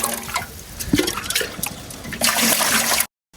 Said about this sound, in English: Splash any water in it just in case you left some behind.